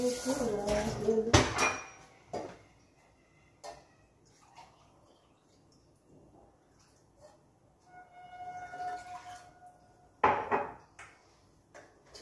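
Small saucepans and utensils clink and clatter on a home stove while coffee is made, with a loud burst of knocks at the start, sparse quiet taps and a faint hum between, then another clatter near the end.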